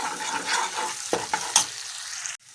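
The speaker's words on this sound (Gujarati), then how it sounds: "મરચાં નાખી દેવાના લીલા, એને સાંતળી લેશું" Green chillies sautéing in a pan over low heat, a steady frying sizzle with a few stirring scrapes, close and fairly loud, ending abruptly.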